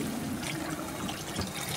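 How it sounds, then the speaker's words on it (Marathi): Hot water poured into a pot of cooked pointed gourd curry makes a soft, continuous close trickle and splash at low volume, with no talk. "यामध्ये टाकते मी गरम पाणी"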